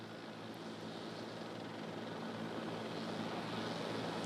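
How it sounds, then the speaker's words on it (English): A JetBlue Airbus A320 comes in for an emergency landing at LAX with its front nose gear turned sideways, producing a steady, fairly loud aircraft engine roar that holds constant and swells slightly toward the end. "And here it comes in now, this JetBlue Flight 292 with that front nose gear pointed sideways."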